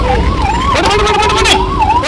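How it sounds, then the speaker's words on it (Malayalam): An ambulance siren wails loudly and close by, its pitch sweeping up and down in repeated cycles. "ആംബുലൻസ് ഉണ്ടായി"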